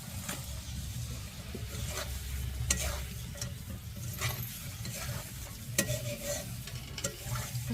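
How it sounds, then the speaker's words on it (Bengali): Fried puti fish stirred into sizzling spice masala in oil, cooked with chilli leaves: a steady close sizzle broken by repeated scraping stirring strokes. "এবার এখানে আমাদের ভেজে রাখা মাছগুলো দিয়ে নাড়াচাড়া করতে হবে।"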